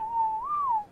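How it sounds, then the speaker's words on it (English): A single whistle command in Ark Survival Evolved plays alone: a clear whistled tone that holds steady, rises and bends back down, lasting about a second. "whistle stop all"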